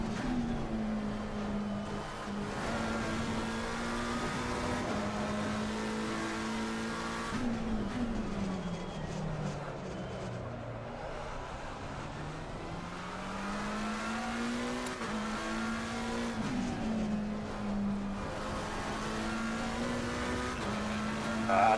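Race car engines and tires in the Assetto Corsa Competizione video game, racing on a track. Engine notes rise and fall steadily through gear changes as the car accelerates and brakes. The sound is quiet and continuous, with no talking.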